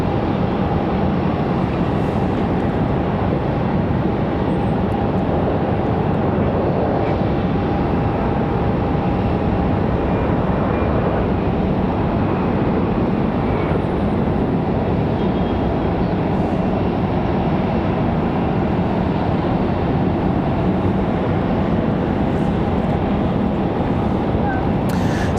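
Endeavor jet airliner arriving from Newark at Raleigh-Durham airport, a steady broadband engine roar filling the whole stretch at constant loudness, with faint talk underneath.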